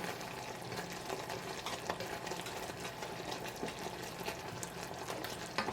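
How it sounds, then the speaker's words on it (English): Caramel boils in a pot while being stirred, a continuous bubbling sizzle with scattered scraping and clicking of the utensil, close and steady for several seconds without speech. "So we'll just keep stirring and letting it boil."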